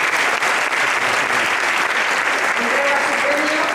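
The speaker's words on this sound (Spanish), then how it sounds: "Un aplauso fuerte para Andrea Duro." Loud, dense applause from an awards-ceremony audience fills the whole stretch at a steady level, with a faint voice surfacing near the end.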